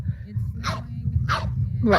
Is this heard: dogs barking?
yes